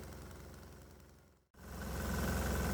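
A 196 cc, 3 hp single-cylinder diesel engine runs steadily with a dense, even mechanical drone, briefly cut off by a short dropout before returning louder and close.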